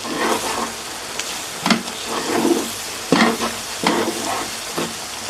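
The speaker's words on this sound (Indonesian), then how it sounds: "Kita masak sampai tepungnya larut." Flour cooks with sausage and corned beef in a frying pan for mac and cheese, a steady sizzle broken by several loud scraping strokes of the stirring utensil, close and with no talk.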